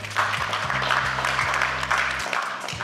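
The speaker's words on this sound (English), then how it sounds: "Please help me to clap for her." Audience applause for the keynote speaker at a business gathering, a steady broadband wash of many hands clapping for nearly three seconds over a low background hum.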